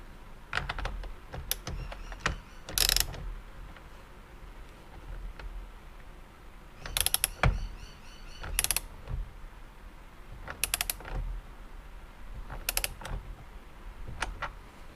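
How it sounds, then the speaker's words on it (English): A ratchet tightens the steering wheel bolt on a Mitsubishi Evo X, giving bursts of quick clicking pawl strokes separated by pauses, close and fairly quiet with no talking. "There's our bolt in, so we'll tighten this up."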